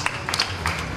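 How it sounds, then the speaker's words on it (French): Brief burst of audience applause at a 70th birthday celebration in Kinshasa, scattered claps over a busy crowd murmur, fairly close and moderately loud. "Applaudissons encore très fort pour les petits-enfants."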